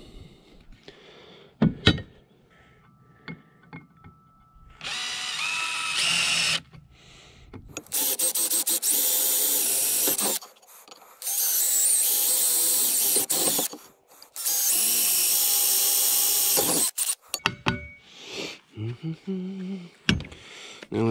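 A power drill whirs loudly in three sustained bursts, drilling holes for a mini power pole mount, close up, separated by short pauses with clicks and handling noises around them.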